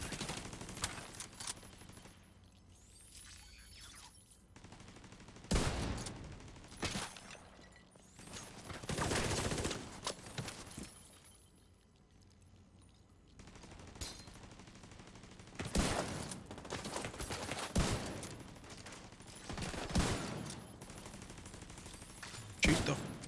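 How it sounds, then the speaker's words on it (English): Turret and weapon gunfire in The Division 2 during a hardcore run in a contaminated area, sounding in loud bursts of rapid shots separated by quieter gaps. "Shoot the freaking turret. Stop shooting me."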